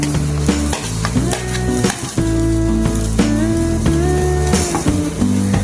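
Turmeric and chopped kantoli (spiny gourd) stirred in a hot pan, a loud close sizzle with scraping spatula strokes throughout, no talk.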